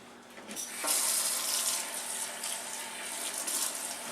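Kitchen tap water runs into a colander of spinach in a sink, a steady close hiss and splatter that swells after a soft start and continues alone.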